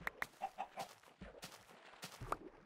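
Chicken in the Minecraft video game clucking in a string of short, sharp calls, several quick bursts with brief gaps, close and clear with no talk over it.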